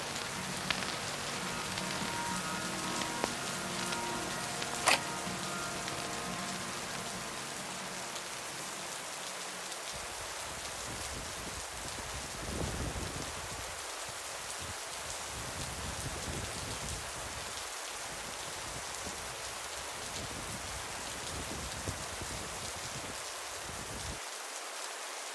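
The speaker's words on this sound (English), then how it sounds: "Standing in the rain fully soaked" Rain falls steadily in Fort William, Scotland, a dense even hiss of drops on surfaces heard alone and fairly faint throughout, with a few sharper taps early on.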